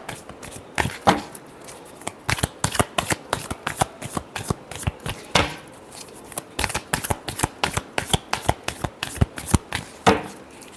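Tarot cards being shuffled by hand, with repeated riffling bursts and soft slaps in an uneven rhythm, close and fairly quiet, with no talking.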